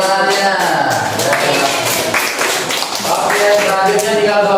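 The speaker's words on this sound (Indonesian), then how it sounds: "Ya, tepuk tangannya." Audience applause in a classroom presentation session, clapping sustained across the whole stretch, mixed with overlapping chatter and voices from the room.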